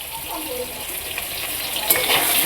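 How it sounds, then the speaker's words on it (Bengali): Potatoes fry in hot oil in a pan for a Bengali fish curry, giving a steady, close sizzle throughout with no talking. "এবার আমি আলুটাকেও ভেজে নেব লাল লাল করে"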